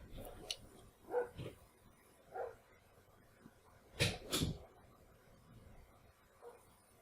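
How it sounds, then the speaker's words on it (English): Several dogs bark in the background in short bursts, a few scattered single barks and yips followed by a louder doubled bark, fairly distant and moderately loud, with no talk. "Got my dogs barking in the background"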